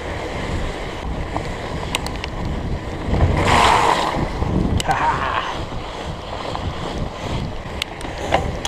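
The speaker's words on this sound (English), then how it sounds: "Alright, water crossing again, this time reverse direction." A Surly Moonlander fat bike splashes through a water crossing on a windy, rainy night ride, with gusty wind rumble on the microphone and a brief surge of splashing water in the middle.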